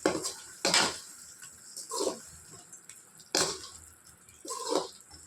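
Mutton with chilli powder and salt being stirred in a pan, a metal utensil scraping and clanking against the pan in a few distinct bursts separated by quieter gaps, close and moderately loud.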